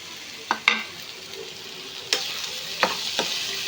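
Dried red chillies sizzle in hot oil for mango pulihora, a steady frying hiss punctuated by several sharp stirring clinks and scrapes, close and without talk.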